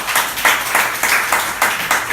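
A church congregation applauding during a Spanish-language service, loud rhythmic clapping in even, repeated pulses that sound roomy and dense.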